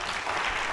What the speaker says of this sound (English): I feel like we should applaud or something